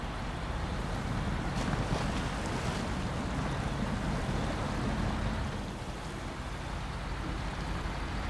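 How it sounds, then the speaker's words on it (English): A steady roar of rushing water and engine rumble as a truck crosses a creek in the video game SnowRunner, loud and continuous, easing slightly toward the end. "We do have a little bit of a creek crossing here"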